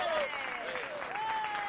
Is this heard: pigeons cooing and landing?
no